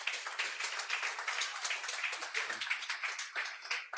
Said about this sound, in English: So I'd like to give a round of applause for Luis,